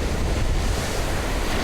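Atlantic Ocean surf near a lighthouse on the Carolina coast roars as a continuous, loud wash of breaking waves, mixed with gusty wind buffeting.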